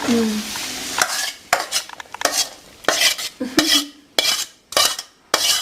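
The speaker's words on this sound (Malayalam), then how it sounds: "ഇനിയിപ്പോൾ മീൻ റെഡിയാക്കാനുള്ള ചട്ടിയിലേക്ക് നമ്മളിത് മിക്സ് ചെയ്യുക കേട്ടോ." A utensil scrapes and clacks against a clay pan in short repeated strokes while masala is stirred, close by, with a faint sizzle between strokes.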